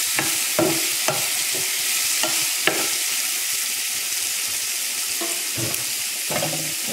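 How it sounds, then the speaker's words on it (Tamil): Carrots and beans, cut to the same size, sautéing for rava kichadi, with a steady broadband sizzle and repeated spatula scrapes and stirs near the pan, no talk. "இப்போ எல்லாத்தையும் நல்லா வதக்கி விட்டுக்கலாம்."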